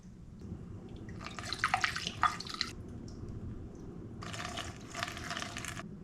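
Distilled water is poured into the radiator of a 2007 Honda CBR600RR sport motorcycle in two quiet splashing bursts separated by a pause, with a faint trickle over a low room background.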